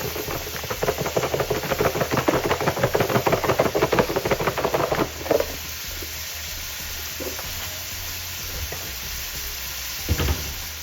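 Seasoned chicken fajita strips with taco seasoning frying in a hot pan, a loud rapid crackling sizzle for about five seconds, then a quieter steady hiss with occasional clatters as the meat is stirred, no talking.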